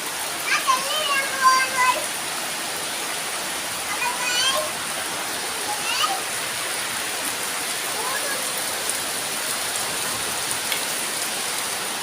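Heavy rain pours down in a steady, even hiss through the whole stretch, with a few short bursts of children's voices near the start and midway.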